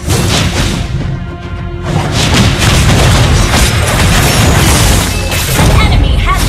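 A turret being destroyed in a mobile MOBA game sets off a loud, dense explosion that rolls into sustained crashing and whooshing battle effects, filling the mix for several seconds with no clear talk.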